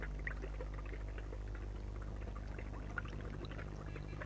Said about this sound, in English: It's a water pipe. The smoke, when drawn through the water, is filtered.